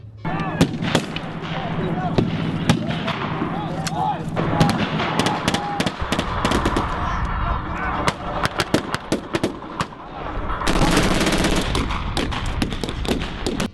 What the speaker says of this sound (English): that MG42 there, you can see that thing firing again.